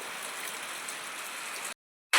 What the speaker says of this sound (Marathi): पाऊस एवढा रपरप सुरू झालाय